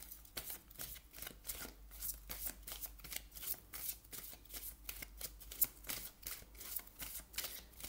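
Oracle cards shuffled steadily by hand, a rapid run of soft papery riffles and flicks, close and fairly quiet, continuing without pause and with no voices.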